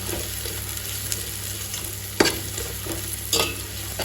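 Onions fry and soften in a pan with steady sizzling under a low constant hum, punctuated by a few sharp scrapes and knocks of a spoon stirring them.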